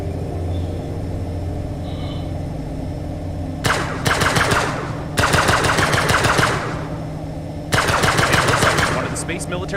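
Space-station defense turrets in Breathedge unleash three loud, rapid bursts of automatic gunfire, each lasting about a second or two and separated by short pauses filled with a low ambient hum.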